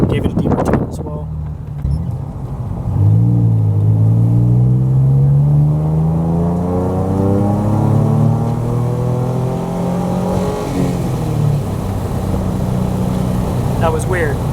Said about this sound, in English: Like your exhaust definitely has a different tone to it.